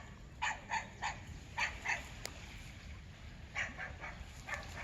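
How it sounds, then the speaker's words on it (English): A dog barks near the shore of Lake Ontario at Oshawa, several short sharp barks in uneven bursts at moderate distance over a low outdoor rumble of wind and water. "And we're being barked at."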